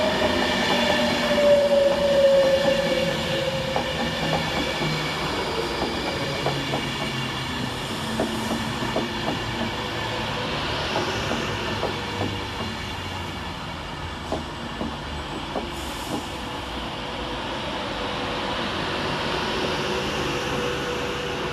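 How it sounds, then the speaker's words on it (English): Class 319 electric train arriving at Macclesfield railway station, a loud steady rumble with rhythmic wheel clicks over the rails and faint squeals, continuous throughout and close by, no voices. "Arriving next into the station is 319152, working the 10:37 Avanti West Coast service from Manchester Piccadilly to London"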